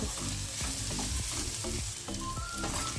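Mixed vegetable sambharo fries and sizzles in a pan, with steady crackling and occasional stirring scrapes, close and fairly quiet, no voices.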